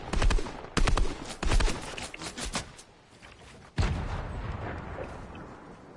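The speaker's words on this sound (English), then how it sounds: "It's just I'm getting hit too with grenades" Grenades go off in Fortnite as a run of heavy booming blasts, several in quick succession early on, then a pause and one more loud detonation that rumbles away.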